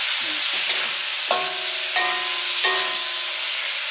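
Food sizzles in a cast iron wok, a steady frying hiss broken by a few sharp clinks and scrapes of stirring, close and fairly loud with no voices.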